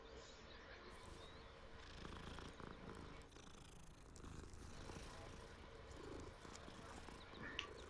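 A cat in the video game Hogwarts Legacy purrs in a faint, steady, continuous rumble under low background noise, with no talk over it.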